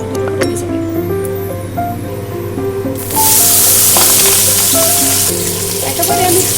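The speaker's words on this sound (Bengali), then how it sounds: "সর্ষের তেল দিয়ে চিংড়ি মাছগুলো ভালো করে ভেজে নেব।" Large prawns fry in hot mustard oil in a pan, two at a time. A loud, continuous sizzle swells sharply partway through as more hiss and spatter join in, close up and without talk.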